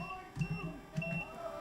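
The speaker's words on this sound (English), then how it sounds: "Apologies for all the beeping you guys are hearing" Faint electronic beeps in short repeated pulses at a baseball game, sounding softly under a low background hum with a little distant speech.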